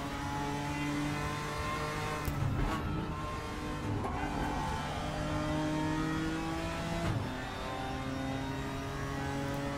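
A GTR4-class race car engine in the RaceRoom racing game at Laguna Seca drones steadily throughout, with sustained revs that dip briefly around gear changes, loud and close with no talk.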